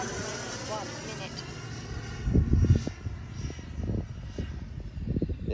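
FMS 90mm Super Scorpion RC model jet with a ducted fan flying overhead, a steady whine that rises and falls as it passes, under nearby talk and wind.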